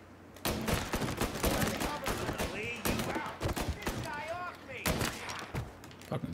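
Pistol shots in Mafia: Definitive Edition, a string of sharp individual cracks and quick volleys through the stretch, fairly loud, with chirpy whistling tones and game voices weaving between the bursts.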